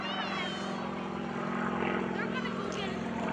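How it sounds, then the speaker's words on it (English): A propeller airplane hanging in a full hover during an aerobatic routine at the Greenwood Lake airshow, its engine a steady loud drone holding throughout, with a voice talking over it. "Airplane in a full hover, hanging on the propeller, the wings just barely flying"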